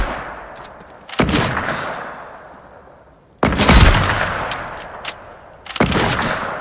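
Three loud video-game gunshots ring out, each with a sharp crack and a long decaying tail, spaced a couple of seconds apart with quiet gaps between.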